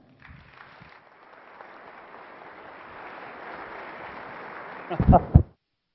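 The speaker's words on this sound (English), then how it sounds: "Please give a warm round of applause for Bryan Dodge" Applause from a real estate investor expo audience welcoming a speaker, a modest, distant-sounding clatter of clapping that builds gradually, followed by a few loud close thumps just before it cuts off.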